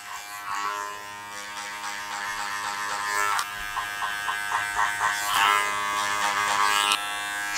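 An electric hair clipper cutting hair over a comb during a short spiky men's haircut, giving a steady close buzz with rhythmic dips and surges as it moves through the hair.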